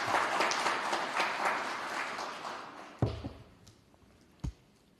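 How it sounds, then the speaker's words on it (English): A crowd applauds at a regional government address, loud at first and then fading, with a couple of sharp taps toward the end. "Round of applause to the government for the effort."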